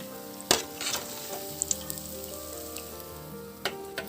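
Potato and egg snack frying in hot oil, a steady close sizzle broken by a few sharp pops and light stirring clinks, with no voices.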